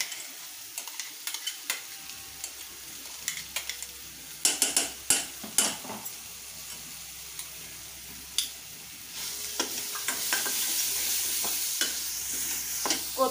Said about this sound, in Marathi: आता हे वाटाण्याचं आपण वाटण घालूया आणि परतून घ्यायचं आहे 2 मिनिटं